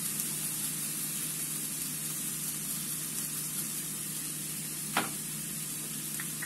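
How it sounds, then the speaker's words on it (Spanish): Food frying in a pan until well crisped gives off a steady, even sizzle and hiss that holds throughout, with one brief utensil clink near the end and no voices. "Vamos a freír lo que quede bien bien frito"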